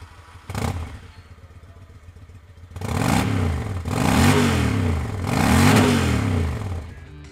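The V-twin engine of a 2003 Honda VT750 Shadow 750 ACE motorcycle idles up close, then revs three times in loud, rising and falling throttle blips.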